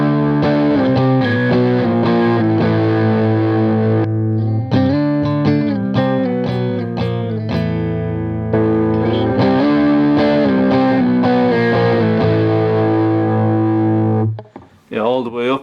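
Electric guitar played through a Behringer TO800 vintage tube overdrive pedal with the gain turned fully up, giving thick, sustained distorted chords and notes that ring continuously at a loud, steady level before stopping abruptly near the end.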